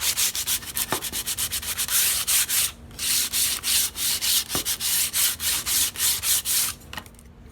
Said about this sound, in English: I'm going to start sanding and get the saw marks off of the wood